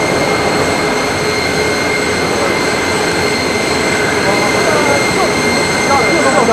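Jet engines of a state aircraft on the apron at Macau International Airport give a loud, constant roar and whine that runs unbroken through the whole stretch.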